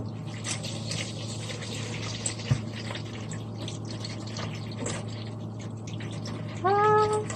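Cold water runs from a tap over rice being rinsed in the kitchen, a soft, continuous splashing stream with a small knock partway through and a brief tonal squeak near the end.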